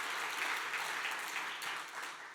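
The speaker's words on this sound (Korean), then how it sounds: "한번 박수 한번 하도록 하겠습니다" A church congregation applauds steadily, a dense wash of many hands clapping together that stays loud and slowly tapers toward the end.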